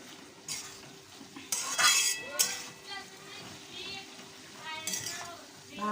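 Utensils scrape and clink against a pan while potato and fenugreek sauté, with soft sizzling beneath irregular bursts of stirring.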